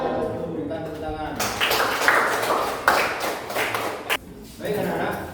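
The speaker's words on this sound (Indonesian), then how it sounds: "Berikan tepuk tangan." A classroom of students breaks into applause, a dense burst of clapping beginning after a voice speaks, holding steady for a few seconds, then dipping briefly before resuming.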